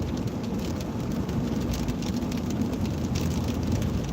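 Rain mixed with sleet falling steadily, a dense even hiss and patter on surfaces throughout, close and continuous with no voices.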